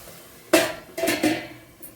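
A metal lid set onto a pot of dried prawn and tomato curry, giving a sharp clank followed by a couple of softer rattling knocks, close up, with no talking.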